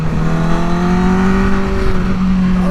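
A 2017 Honda CBR1000-RR sport bike engine runs steadily and close by, a smooth sustained hum with steady harmonic tones that hold level for a few seconds before easing slightly, with no one talking.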